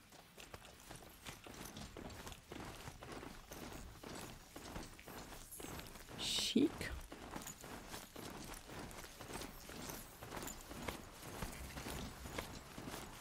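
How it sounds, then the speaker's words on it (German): Hoofbeats of a ridden mount in Horizon Zero Dawn, a steady quick clip-clop rhythm of hooves running throughout, fairly faint, with a brief louder mechanical clank midway. "Ich hab vergessen, dass ich auch noch auf den anderen reiten konnte."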